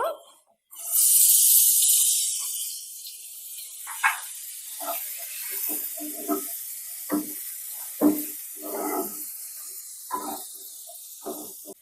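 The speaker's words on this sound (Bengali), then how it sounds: "তেলটা আমার গরম হয়ে গেছে, এবার পেঁয়াজটা ভেজে নেব।" Finely chopped onions drop into hot oil for cabbage with egg, bursting into a loud sizzle that fades to a softer crackle and hiss, with scattered stirring clatters.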